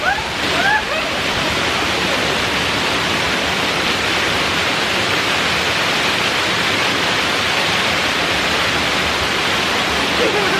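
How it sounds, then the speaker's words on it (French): A waterfall roars loud and steady, a dense unbroken wash of rushing water that never lets up. "Aujourd'hui, c'est la journée des cascades."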